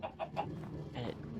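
Minecraft chickens cluck in a quick series of short, bright clucks, a few repeated in a row and then one more, fairly faint and close, with no talking.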